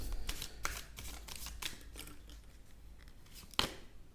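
Tarot cards being shuffled and drawn, giving a run of close, crisp riffling and snapping bursts with one sharp card snap near the end, no voices.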